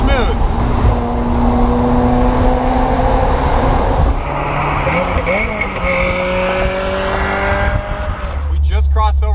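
Ferrari F355 cruising on a highway, a loud steady engine drone with rising and falling tonal whine as revs shift, a person talking over it, a sharp burst of noise at the end.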